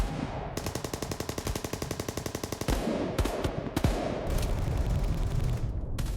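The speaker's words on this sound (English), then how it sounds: "Now that the French are within range, the Germans have unleashed fire." A World War I battlefield at the Marne fills with rapid machine-gun bursts and rifle fire, a dense continuous rattle punctuated by louder individual shots and heavy reports, loud and close with no voices.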